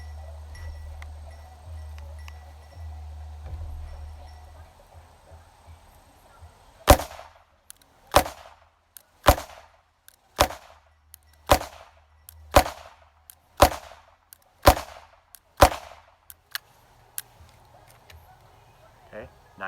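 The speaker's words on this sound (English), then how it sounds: "9 shots." A Taurus Model 94 two-inch .22LR revolver fires nine sharp shots outdoors at a steady pace about a second apart, each a loud crack with a short ringing tail, after a quiet stretch with low background rumble.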